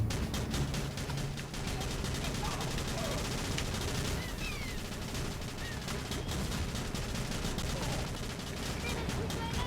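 Sustained mortar and machine-gun fire in the video game Battalion Wars, a dense, continuous crackle of rapid shots and booms.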